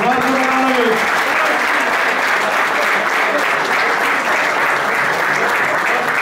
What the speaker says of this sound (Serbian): Molim vas, veliki aplauz, Marko Milanović!